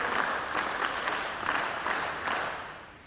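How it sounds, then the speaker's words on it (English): Schoolchildren at a computer and robotics lab inauguration clap together in a rhythmic round, moderately loud and steady, fading toward the end. "School clap go."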